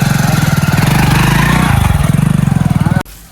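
A motorcycle engine running close by, a loud rapid rhythmic putter that holds steady for about three seconds and then cuts off abruptly.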